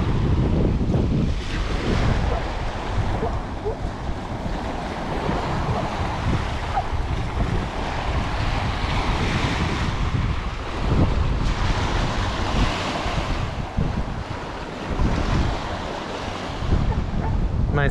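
Big waves break on the shore of a sound at Fay Bainbridge Park, Bainbridge Island, Washington, a continuous crashing surf with heavy, gusting wind buffeting close up.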